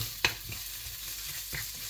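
Onions hit a hot pan with a sharp clatter, then fry in a soft, steady sizzle while being caramelized for a bean curry, with another light knock near the end.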